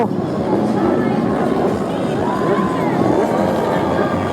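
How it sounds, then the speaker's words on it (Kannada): A dense crowd at a college fest superbike event, a steady loud babble of many voices with cheering swelling throughout. "Look at the crowd guys. So ನೋಡ್ಬೋದು ನೀವು ಕ್ರೌಡು."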